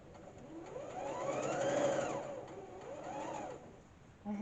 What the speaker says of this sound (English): put your foot down, needle down, and just sew along the crease line